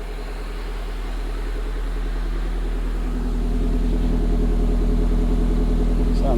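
A 1994 Toyota Corolla with a 7AFE engine idles after running several minutes, a steady low hum and pulse that grows slightly louder partway through, close and without talk.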